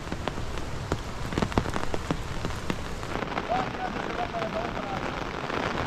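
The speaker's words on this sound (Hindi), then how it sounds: "तो बारिश अभी भी बंद नहीं हुई है" Steady rain patters down on a forest and meadow trail during a mountain trek to Madhyamaheshwar, a dense continuous hiss with scattered heavier drops, and a voice speaks faintly beneath it.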